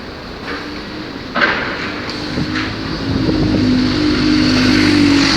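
Steady street traffic in central Croydon, with buses passing close by, a constant engine rumble and road noise that swells a little toward the end, plus wind buffeting the microphone and one sharp knock.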